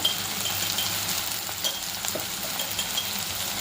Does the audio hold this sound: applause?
no